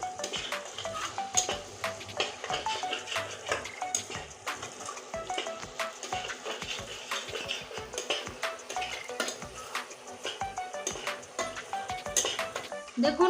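Spice masala with turmeric being sautéed in a pan, with steady scraping and clinking stir strokes of a spatula against the metal over a soft sizzle, close and continuous, no talking.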